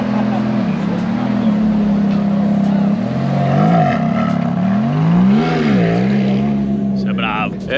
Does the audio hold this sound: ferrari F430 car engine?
yes